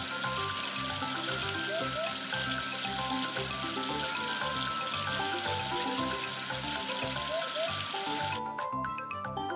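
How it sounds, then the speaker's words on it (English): Running water rinsing soap off, loud and steady for most of the clip with dense broadband spray and bright tonal music layered throughout, cutting off near the end. "Wash away the soap with water."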